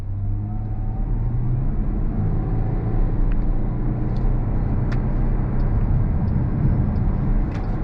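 A 2022 Chrysler Pacifica hybrid minivan pulls away from a green light on throttle, giving a steady, smooth, moderately loud cabin hum with soft road noise and faint ticks, no voices.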